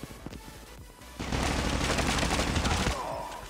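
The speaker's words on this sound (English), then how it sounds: "it's already started, you can hear the gunshots" Gunfire in the mobile shooter Call of Duty Mobile, a few sharp single shots followed by a dense, loud burst of rapid automatic fire lasting about two seconds.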